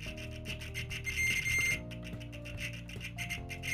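Amprobe AM-420 multimeter continuity beeper with stock probes, sounding as a fast, scratchy string of electronic tones that cut in and out against rasping contact noise, close and steady.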